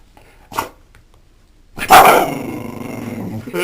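A short low growl, then after a pause a loud close bark that trails into rough growling.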